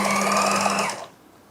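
A sewing machine stitches piping onto a lehenga in one brief, close burst of whirring that cuts off after about a second, leaving near silence.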